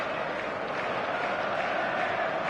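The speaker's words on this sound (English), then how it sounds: "The noise is just about reaching a crescendo here as these two sides get ready to lock horns." A large stadium crowd in a PS4 football video game roars steadily, a dense continuous wash of cheering and clapping with no break.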